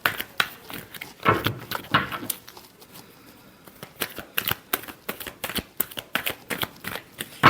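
Tarot cards being shuffled in repeated quick riffling bursts, crisp and close, with short pauses between runs and no talking.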